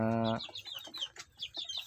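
Village chickens in a simple coop before free-ranging: a brief harmonic squawk, then a run of soft, quick clucks and chirps, close but quiet.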